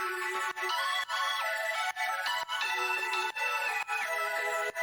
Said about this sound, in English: If I take off the LFO tool, it sounds like this.